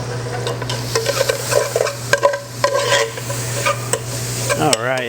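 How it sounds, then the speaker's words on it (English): Bacon frying in a pot while making corn chowder, a steady sizzle with repeated scraping stirs and light clinks of utensil on the pot. "Sounds like our bacon's doing pretty good"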